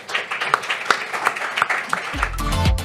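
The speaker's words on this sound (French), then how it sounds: "Merci et applaudissements pour Audrey Assante." Audience applause with distinct individual claps standing out in a loose, moderately sized round, followed near the end by a low musical tone entering underneath.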